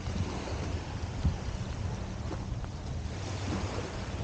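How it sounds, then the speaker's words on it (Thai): Strong waves break on the shore at Carkeek Park in Seattle, forming a continuous low rumbling wash mixed with wind, fairly even in loudness and with no voices. "คลื่นแรงนั่นเนี่ย"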